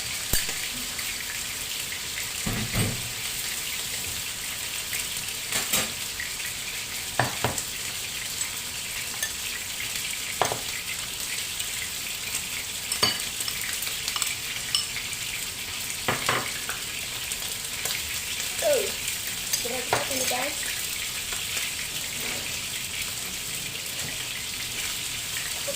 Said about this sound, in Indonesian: kalau goreng ayam nggak bisa cepat ya